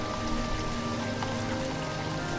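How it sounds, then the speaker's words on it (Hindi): Dense, steady downpour of rain hissing evenly on surfaces in a village, loud and continuous with no pauses or voices. "गांव में जोरदार बारिश शुरू हो गई"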